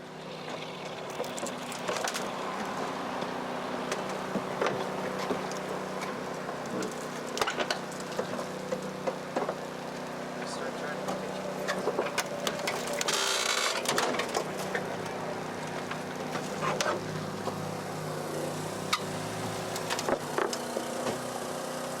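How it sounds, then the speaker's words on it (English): Hydraulic rescue spreaders crush a car's bodywork during vehicle extrication training in Kenya, giving a continuous grinding, creaking and crunching of metal with intermittent sharp cracks and clatter, fairly close and without speech. "The spreaders can also be used to crush parts of the vehicle to reveal any hinges or pins as well."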